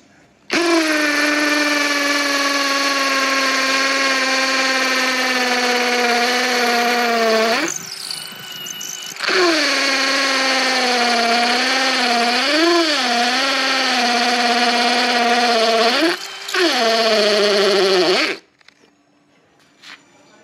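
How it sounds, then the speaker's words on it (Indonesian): A cordless brushless Ronix 8900K drill whines steadily at high pitch, stopping briefly twice and shifting in tone as it bites into a hard concrete paving block, loud and close. "Terakhir saya akan mengebor konblok atau paving blok ini."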